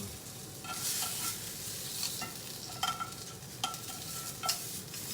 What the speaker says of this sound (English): I'm trying to sear the ends off here.